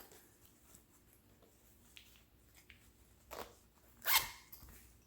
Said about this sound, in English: Nice little zipper.